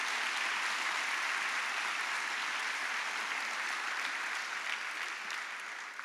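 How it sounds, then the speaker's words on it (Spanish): Sustained, even applause from a church congregation during a Spanish-language worship service, a dense steady wash of clapping heard at moderate distance that tapers slightly at the close. "Dale un aplauso de alabanza a Él por todo lo que Él hace."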